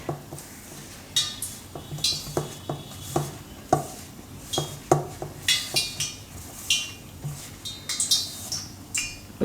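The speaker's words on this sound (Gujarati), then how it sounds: "હવે આ બધું આપણે મિક્સ કરવાનું છે" A spoon clinks and scrapes steadily around a bowl, stirring rice-flour batter over sliced karela for bhajiya, with repeated close, sharp taps and short scrapes at a brisk, uneven rhythm.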